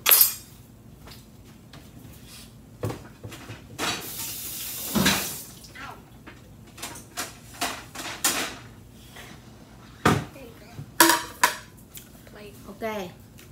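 A plate being taken out in a home kitchen during Vietnamese banh bo baking, with scattered ceramic clinks and clatters of dishes at close range, some louder knocks, and a voice speaking in between.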